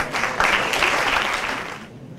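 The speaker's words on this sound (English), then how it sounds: "Please applaud, guys." Audience applause for an ICICI Bank executive taking the stage, a brief, loud burst of dense clapping that swells and then fades out at the end.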